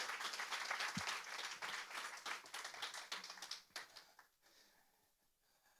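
Audience applause at an Estonian church summer camp workshop, dense clapping from a room of people for about four seconds, then thinning out and fading to a few scattered claps near the end.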